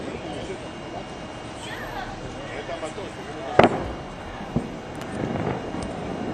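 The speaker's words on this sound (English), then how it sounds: "You hear some bangs. Looks like that is a possible interception above the sky in Haifa." Several sharp, distant bangs from possible missile interceptions in the sky over Haifa during an Israel–Iran strike: one strong crack, then a lighter bang about a second later and fainter pops, over steady outdoor background noise.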